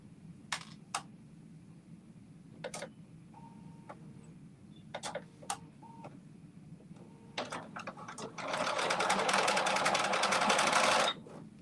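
A sewing machine stitches a fabric strap, starting with scattered clicks and short taps, then running in one steady whirring burst of several seconds near the end, fairly quiet overall.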